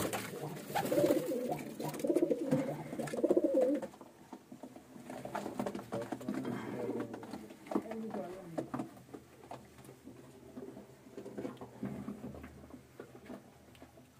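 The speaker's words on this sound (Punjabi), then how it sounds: "ਹੁਣ ਬੱਚੇ ਤਿਆਰ ਹੋ ਰਹੇ ਐ ਗੋਲਡਨ ਕਬੂਤਰ" Golden pigeons in a breeding loft give soft, low cooing in a quiet room, with light pattering and shuffling. A voice talks at points over the birds.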